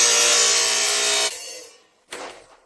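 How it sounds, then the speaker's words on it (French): A tile saw whines loudly cutting PVC panels for over a second, stops abruptly, then a shorter, fainter burst of cutting follows. "j'ai utilisé la scie à carrelage"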